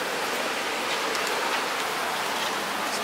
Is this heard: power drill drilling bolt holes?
no